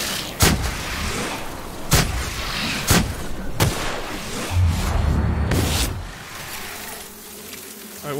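Shotgun blasts in the video game The Outer Worlds, five or six sharp, loud reports spaced roughly a second apart over a low buzzing drone.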